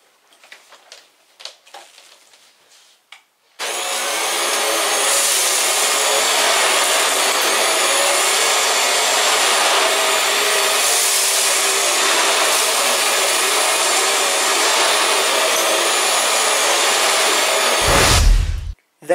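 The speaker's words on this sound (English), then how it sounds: "a really low pile rug, the vacuum is actually struggling" A Vax Mach Air Revive upright vacuum cleaner runs on a low pile rug, starting abruptly after a few faint knocks and holding a loud, steady motor roar for about fourteen seconds before cutting off.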